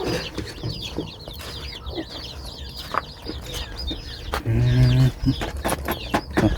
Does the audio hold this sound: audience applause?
no